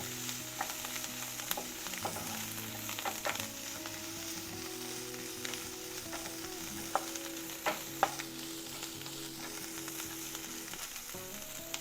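Bajji chillies sautéing in a pan, a low steady sizzle with repeated clinks and scrapes of a spatula stirring, close and quiet, continuing evenly for about twelve seconds.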